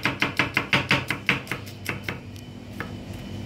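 A knife chops garlic on a board in a fast run of sharp, even taps that slow and thin out toward the end, close and clear with no talking.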